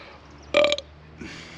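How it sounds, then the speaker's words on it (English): One loud, close burp erupts after chugging 34 ounces of Sprite. It is a short, raspy belch with a brief tail, followed by a faint trailing sound over quiet room tone. "There's burps in there."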